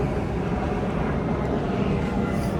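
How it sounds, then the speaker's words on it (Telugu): An airplane passes overhead during an outdoor walk, a broad, steady roar that fills the scene from start to finish at a moderate distance, with no one speaking. "అది అప్పుడే రెండో ఫ్లైట్ కూడా వెళ్తుంది."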